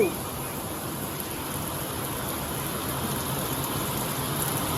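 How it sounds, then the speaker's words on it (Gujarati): Heavy rain falling outdoors gives a dense, steady hiss that stays close and even throughout, slightly building toward the end. "તો વરસાદ બહુ વધી ગયો"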